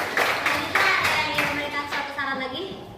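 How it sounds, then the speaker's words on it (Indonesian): A class of students claps hands in a classroom, a short burst of loud, close, irregular claps that fades out within a few seconds. "Oke, kasih tepuk tangannya."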